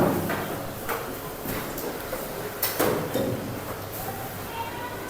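Fourth-grade pupils in a classroom scrape and drag their chairs and desks back to face the front, a continuous busy clatter of scuffs and knocks with a murmur of children's voices.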